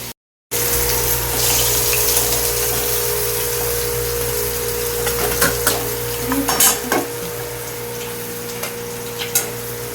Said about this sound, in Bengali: মাছগুলো দেখো কত সুন্দর লাগছে আর কত সুন্দর ভাজা হয়েছে